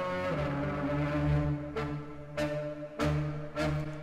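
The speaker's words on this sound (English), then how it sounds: "So what you're hearing is a violin, and it's been pitch shifted down an octave" A violin recording pitched down an octave, its lowered bowed notes sustaining in a rich, dark tone with a few bright attacks recurring at intervals, heard alone without talk.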